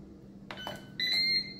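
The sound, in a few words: Ninja Speedi control panel beeps while setting sear function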